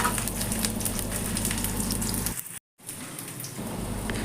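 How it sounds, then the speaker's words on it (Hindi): Onion and green chili hit hot oil for a tempering, giving a steady, loud, dense sizzle that runs throughout, broken only by a brief near-silent gap partway through. "यहाँ पे बस एक प्याज ली है मैंने और थोड़ी सी हरी मिर्च काटी है, और ऐसी छौंक दूँगी मैं इसको"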